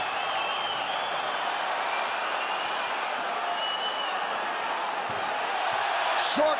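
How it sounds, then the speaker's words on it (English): A large arena crowd at an MMA fight roars in a dense, sustained wall of cheering that holds steady throughout, with commentary voices over it. "And the crowd goes nuts as Mark Hunt slips away."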